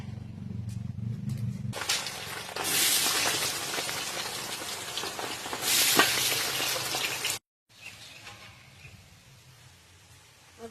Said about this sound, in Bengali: এই তেলের ভিতর পাতাকপির ঘন্ট আর আলু কেটেছি, সেটাও ভেজে নেব।